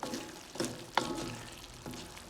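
Goat meat fries in butter in a pan for ayran kavurma, with a soft, faint sizzle. A spoon knocks against the pan about four times at uneven intervals.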